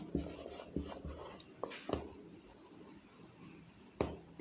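A pen writes on paper up close in short scratchy bursts of strokes and taps, working through a math problem, with quiet pauses between the marks.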